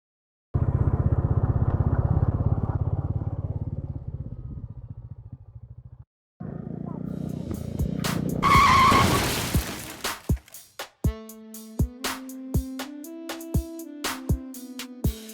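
A motorcycle engine runs steadily, cuts out briefly, then comes back and ends in a loud skid and crash, followed by scattered clattering and knocking of debris.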